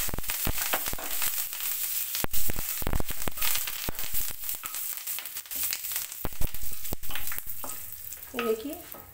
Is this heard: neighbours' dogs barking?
no